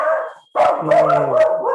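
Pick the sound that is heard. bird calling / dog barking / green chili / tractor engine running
dog barking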